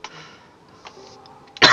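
A person with a lingering sore-throat cough gives a few faint coughs, then one sharp, loud cough close to the microphone at the end.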